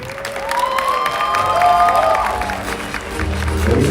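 Wedding reception guests applaud and cheer for the couple, a swelling crowd of clapping with some shouts and a rising whistle-like tone drifting through, fairly close and loud.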